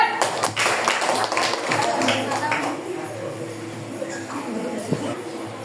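A class of Indonesian elementary pupils claps for group four after its fried rice presentation, a dense patter of hands that fades out under a teacher's voice.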